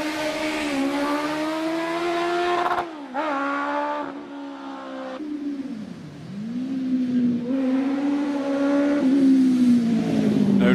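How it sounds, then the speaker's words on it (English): A heavily modified little OMS hill climb car with a 1 litre engine screams up the course, its high revs rising and dipping through gear changes, loud and close, then fading slightly. "Much modified little OMS with a 1 litre engine."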